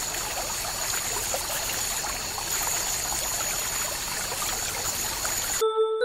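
Continuous trickling, streaming water plays while a character swims in the video game Sir Fred Remake, a steady soft flow that cuts off abruptly near the end, followed by brief tonal game sounds.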